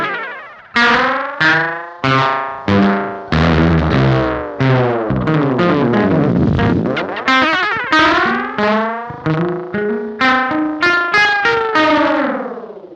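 Delay pedal with its LFO depth at maximum, repeated guitar notes smearing into swooping, pitch-bending echoes as the delay time sweeps widely, a loud, dense wash of modulated repeats with no talking.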